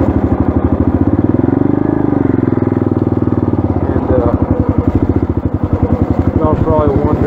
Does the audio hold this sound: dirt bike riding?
yes